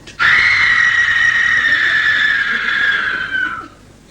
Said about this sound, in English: It was the scream of a woman totally terrified.